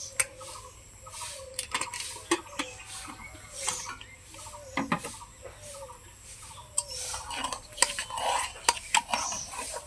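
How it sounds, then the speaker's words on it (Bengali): A cooled pressure cooker of lentils is opened, producing faint, sparse metallic clanks and scrapes of the lid and pot, with quiet gaps between and no talking. "এখন ঢাকনাটাকে আমি খুলে নেব।"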